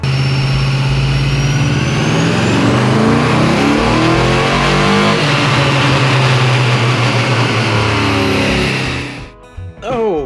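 A 5.3 LS V8 swapped into a Chevy S10 roars through a wide-open dyno pull, loud and steady with its pitch climbing for about nine seconds before cutting off abruptly and settling.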